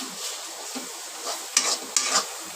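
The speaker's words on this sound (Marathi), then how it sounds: "गूळ सगळ्या ह्याच्यामध्ये ह्या खोबऱ्यामध्ये मॅश झाला पाहिजे असं करून घ्यायचं आहे आपल्याला सारण" A spoon stirring and mashing jaggery into grated coconut filling for modak in a pan, with a soft continuous scraping sizzle and two sharper scrapes near the end, close and steady without talk.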